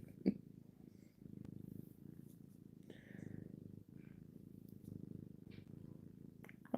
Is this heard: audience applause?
no